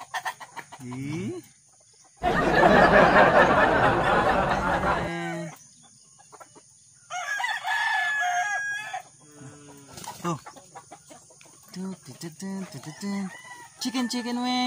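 Fighting cocks in a backyard crow and cluck, with one loud, long crow standing out and more calls scattered around it, close by, under intermittent speech.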